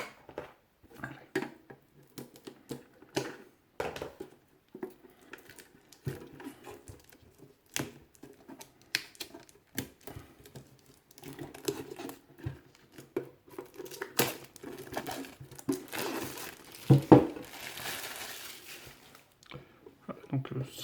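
A 2019 Yu-Gi-Oh Mega Tin is unwrapped at close range. Crinkling plastic film and tearing come in scattered bursts, getting busier toward the end, with soft taps and rustles in between.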